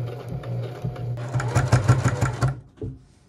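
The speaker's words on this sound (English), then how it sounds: "I just finished sewing on the second sleeve." A sewing machine stitches a hoodie sleeve in a fast, close, rhythmic whir of needle strokes that runs for a couple of seconds, then stops.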